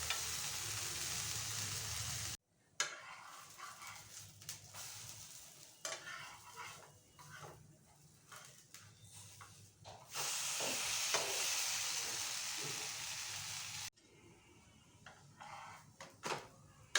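Bread slices coated in gram-flour batter fry in a pan, a hissing sizzle that cuts in and out in sections, with scattered clinks and scrapes close by, fairly quiet, no talk.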